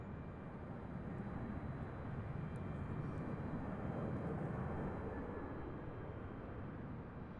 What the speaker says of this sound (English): what you're hearing in the background now is American Airlines A321 coming in from Charlotte